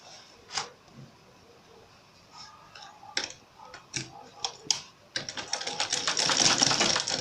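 A sewing machine stitches a zipper between the body and lining fabric of a laptop backpack, starting with scattered short clicks and taps, then running in a fast, continuous rattling burst near the end.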